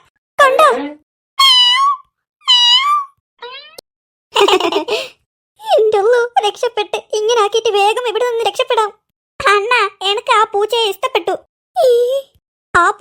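A cat character in an animated Malayalam cartoon gives a string of wavering, high, voiced meows, close and loud, some short and some drawn out, most likely a person imitating the cat.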